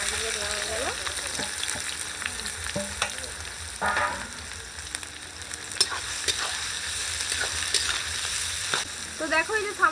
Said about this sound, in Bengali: এখানে পেঁয়াজগুলো ভাজা হয়ে যাচ্ছে